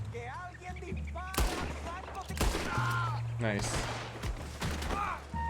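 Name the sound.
gunshots in the video game Red Dead Redemption 2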